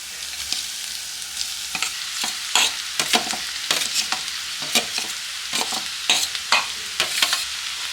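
Vegetables frying with browned onions in a pan for a palya, a continuous close sizzle broken by frequent spatula scrapes and stirs.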